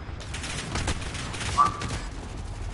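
An airstrike lands in Call of Duty Modern Warfare, a fairly faint spread of rumbling blasts and rattling gunfire bursts, with a sharper hit near the middle.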